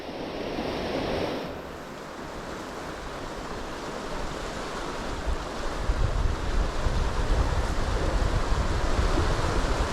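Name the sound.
ocean tide and waves on the shore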